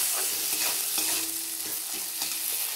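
Spice paste for a vegetarian kohlrabi curry fries and gets stirred in a pan, a steady sizzle broken by several scraping strokes of the spoon, close and fairly loud with no talking.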